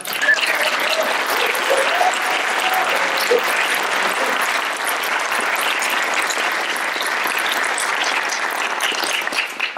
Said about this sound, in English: you can take just a minute and applaud them right now